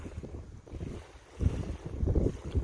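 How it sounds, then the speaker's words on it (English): A sailboat moves across open water, heard as a low, gusting rumble of wind buffeting the microphone with washing water beneath, swelling louder toward the end. "Sailboat."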